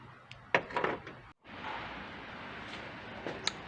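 The front door of a 1985 VW T3 Transporter Kombi is set into place, giving a few close knocks and a metallic thunk followed by quiet handling noises in a small space.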